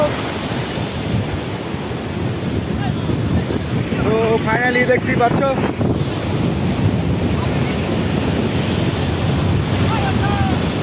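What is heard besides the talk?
sea waves breaking on the beach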